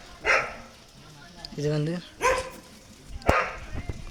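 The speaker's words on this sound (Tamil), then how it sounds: "இந்த கூட்டுக்குள்ளே தான் நாய் நிற்கிது" Two dogs in an enclosure bark in short bursts, a few separate loud barks with a brief whine between, close by while someone talks over them.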